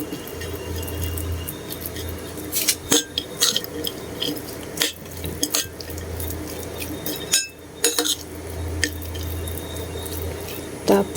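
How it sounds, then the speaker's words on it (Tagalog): Pork sisig stirred in a pan, with scattered scraping and clinking spatula hits over a low steady sizzle and hum, sharper clatters coming in irregular bursts. "ihalo-halo natin dito."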